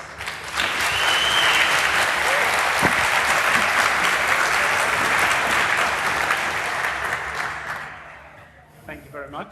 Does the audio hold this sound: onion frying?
no